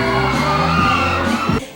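Loud crowd screaming and cheering greets a singer at a mall show in Baliwag, Bulacan, with sustained shrill whoops and yells across the full stretch before a brief drop at the end.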